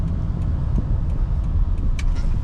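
A 2009 Toyota Camry XLE V6 swinging through a slow U-turn, its steady low engine and road rumble heard from inside the cabin, close and constant, with a few faint ticks and clicks above.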